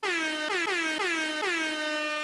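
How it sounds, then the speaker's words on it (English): A loud air horn blares continuously, its blasts repeating in quick pulses that bend downward in pitch, filling the space with a harsh, brassy tone. "Air horn, please."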